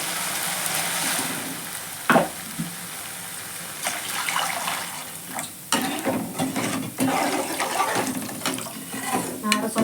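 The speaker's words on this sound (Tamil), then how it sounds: "இப்போ அதில் தண்ணி சேர்த்துக்கலாம்." Water is poured into a pan of sautéed tomatoes for a vegetarian kulambu curry, giving a splashing, bubbling rush over a soft sizzle, with a few knocks and stirring noises along the way.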